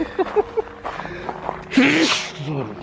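A single sharp sneeze bursts out in cold weather on New Year's Eve near Ranthambore, following brief voices and rustling.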